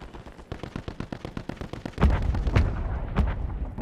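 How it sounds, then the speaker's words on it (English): Rapid automatic gunfire in a Warzone firefight gives way to heavier booming blasts from a friendly mortar strike, with several loud, close impacts landing over the continuing shots. "Friendly mortar strike on the way"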